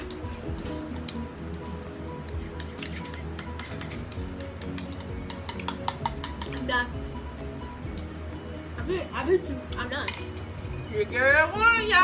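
A spoon scrapes and clinks against a butter pecan ice cream container during an eating challenge, giving scattered taps and scrapes under ongoing talk and laughter.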